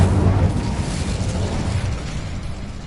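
Hogwarts Legacy Incendio fire spell cast in a video game, a loud rumbling, explosive roar with heavy low-end that holds steady for about three seconds, with no voices over it.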